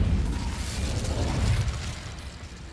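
The Incendio fire spell cast in Hogwarts Legacy, a dense whooshing, crackling burst of flame with a low rumbling body that holds steady, then eases slightly toward the end, with no talk.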